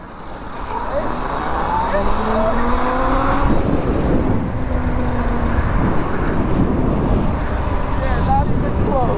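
Two electric dirt bikes, a Surron and a Freego X2, launch together in a race with a rising motor whine that climbs in pitch and stays loud, mixed with wind noise against the microphone.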